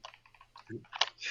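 Fingers typing on a tiny, very small computer keyboard, a quick run of light, close clicks with a few louder taps, heard faintly under a steady low hum.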